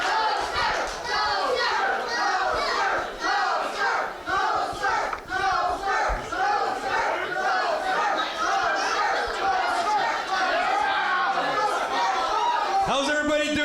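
A packed wrestling arena crowd at a cancer charity event chants and yells loudly and continuously, with dense cheering voices filling the space throughout.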